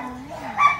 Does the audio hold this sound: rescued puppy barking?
yes